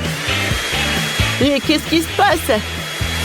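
A hair dryer blows steadily on corn kernels to pop them into popcorn, its loud pulsing whine running throughout while someone speaks French over it.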